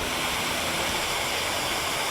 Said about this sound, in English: And the river is behind me.